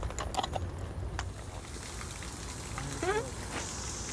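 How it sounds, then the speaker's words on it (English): A horse on a trail ride urinates, a steady splashing, rain-like stream hitting the ground throughout, with a brief voice heard partway through. "Her horse peeing."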